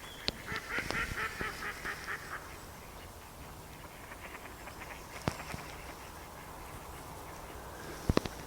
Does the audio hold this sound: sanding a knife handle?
no